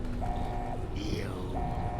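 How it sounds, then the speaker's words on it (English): Alarms sound in Fallout: New Vegas as two steady electronic tones, each held about half a second, separated by a brief rising sweep, over low background rumble, with a voice speaking briefly. "Alarms."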